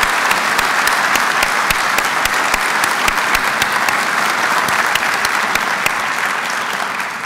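Audience at a university State of the University address breaking into loud, sustained applause, a dense even wash of clapping that holds steady throughout with no talking over it.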